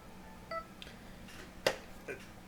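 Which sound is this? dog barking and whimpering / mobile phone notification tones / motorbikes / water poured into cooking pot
mobile phone notification tones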